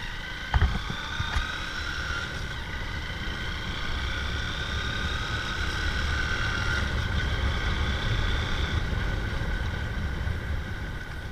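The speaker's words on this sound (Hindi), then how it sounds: "तो गाइस आपने सुना कि इंजन की आवाज़ काफ़ी ज़्यादा है" A Hero Passion XPro motorcycle with a loud engine, white smoke and a pickup problem runs while being ridden, giving a steady droning hum with a high whine that holds evenly throughout.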